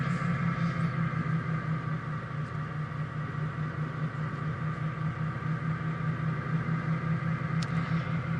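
A heavy truck engine at Le Mans fair, 2010, running close and loud with a steady low rumble and drone throughout, holding a fairly even pitch with no sharp surges.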